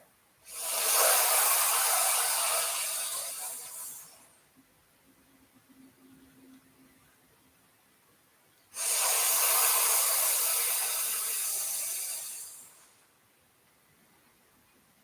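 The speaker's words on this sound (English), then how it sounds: "Give yourself a few rounds of sitkari hissing breath." Two long rounds of sitkari yoga breathing, each a close, steady hiss inhaled through the teeth for about four seconds, separated by a quiet pause with a faint low hum between them.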